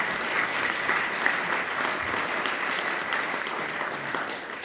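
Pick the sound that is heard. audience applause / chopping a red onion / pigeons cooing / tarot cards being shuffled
audience applause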